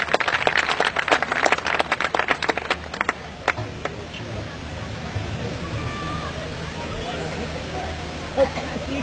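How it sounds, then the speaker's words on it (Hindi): A kavi sammelan audience claps to welcome a poet, a burst of dense applause in the opening seconds that thins into scattered claps and fades under murmuring crowd noise. "एक बार तालियों से उनका स्वागत करें"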